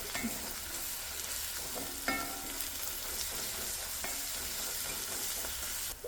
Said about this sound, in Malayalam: ഇഞ്ചി വെളുത്തുള്ളി പേസ്റ്റ് ഉണ്ടല്ലോ ആ ഒന്ന് നമുക്ക് ഇട്ട് കൊടുത്തിട്ട് നന്നായിട്ട് വഴറ്റിടുക